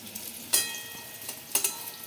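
Potatoes sizzle and crackle in hot oil, with two brief louder bursts of spattering as they are stirred.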